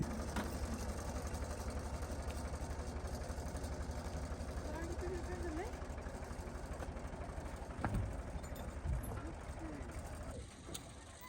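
A tractor engine runs steadily with a low rumble and rapid mechanical rattling while loading a heavy load onto a trailer, with occasional clanks and faint voices in the background.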